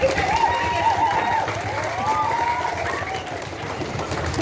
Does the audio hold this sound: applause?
yes